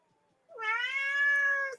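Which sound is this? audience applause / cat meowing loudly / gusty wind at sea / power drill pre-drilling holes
cat meowing loudly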